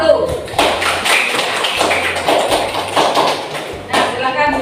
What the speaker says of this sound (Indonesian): kita beri aplaus ya untuk kelompok 1